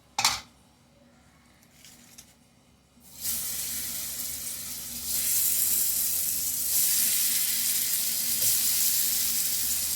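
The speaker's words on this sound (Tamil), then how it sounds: "இப்போ இதை தவாவில் போட்டு வறுத்து எடுத்துடலாம்." Spiced plantain slices frying in oil on a tawa: a couple of soft clicks, then a sudden loud hissing sizzle as the slices hit the oil, steady and intensifying, with occasional light handling taps.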